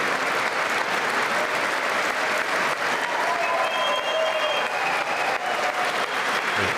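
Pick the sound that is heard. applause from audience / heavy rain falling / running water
applause from audience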